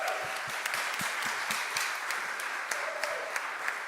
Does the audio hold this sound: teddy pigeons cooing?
no